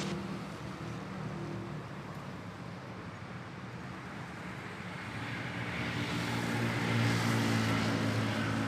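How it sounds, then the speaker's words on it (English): An Airbus A321 arriving from Cebu at Manila Airport, its jet roar steady and broadband, then swelling louder toward the end as it draws nearer, with traffic noise beneath. "it's an A321 arriving from Cebu"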